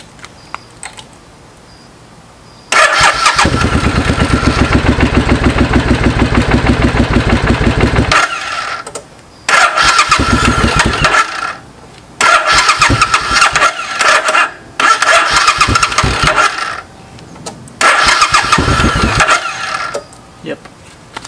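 A Suzuki S50 scooter engine is test started, firing up and running loudly in several bursts with brief cutouts and restarts in between, with no talk over it.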